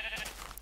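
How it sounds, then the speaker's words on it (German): A Minecraft sheep lets out one short, nasal bleat, brief and moderately clear with no talk over it. "Ein Schaf! Ein Schaf!"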